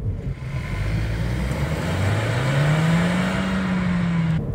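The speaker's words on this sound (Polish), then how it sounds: "to i30 to jeden z najszybciej jeżdżących samochodów do tyłu" Hyundai i30 1.5 T-GDI N-Line (2023) driven fast in reverse, its engine note rising steadily in pitch as it accelerates, loud and close throughout with no talk.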